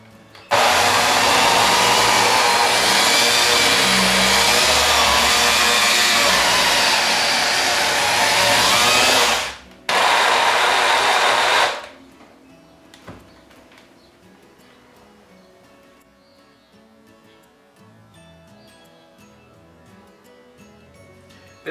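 An electric mixer motor drives a homemade orange juicer, a loud, steady high whir running for about ten seconds, cutting out briefly, resuming, then stopping, leaving a quiet room with faint handling noises.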